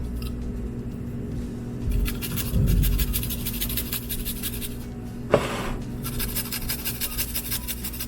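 Garlic cloves rubbed against a grater in a home kitchen, dry rhythmic rasping strokes up close, with a brief sharp knock in the middle and no talking.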